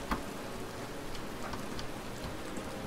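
Steady rain falls in a survival video game, a dense even patter with scattered louder drops, continuous and fairly close with no voices.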